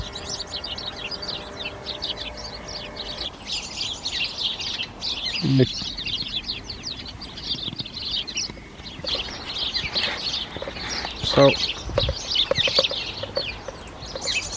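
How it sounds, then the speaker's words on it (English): House sparrows chirping among a hedge in spring, a busy chorus of bright overlapping chirps and tweets close by, with someone talking over them briefly. "more sparrows here with me, actually behind me. You can see them all moving through the hedge, and they're house sparrows"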